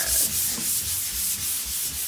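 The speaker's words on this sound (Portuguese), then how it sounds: "Olha, o Bruno tá lixando também" Drywall sanded by hand with a sanding block, making rhythmic back-and-forth scraping strokes, close and steady, with no talk.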